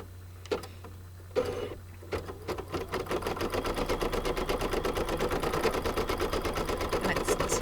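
An embroidery machine tacks sheer organza down to felt in the hoop, starting with a few separate stitches, then settling into a steady, close, rapid needle chatter with a low motor hum.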